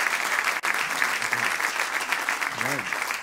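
Continuous applause from a church congregation at the 46th anniversary service of Tabernáculo La Voz de Dios in Santiago, Chile, with a voice briefly speaking over the clapping near the end.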